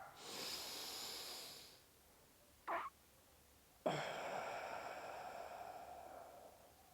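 A group breathes together during a breathing exercise: a long airy exhale fades out, a brief sharp sniff follows, then a strong collective inhale sets off a sustained hissing rush of breath close to the microphone.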